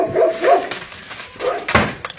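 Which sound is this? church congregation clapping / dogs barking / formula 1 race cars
dogs barking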